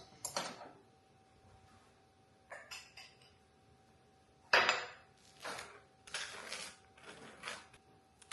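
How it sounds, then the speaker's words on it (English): A knife chops through buttered bread on a plate, giving a few sharp, close knocks and scrapes in separate bursts with pauses between them. "Let's chop my bread once it's buttered."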